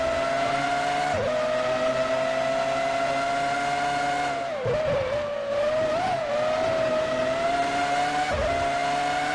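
Formula One cars screaming at high revs in the racing game Formula One 2003 at the San Marino Grand Prix, a loud sustained engine whine with brief dips for gear changes and braking.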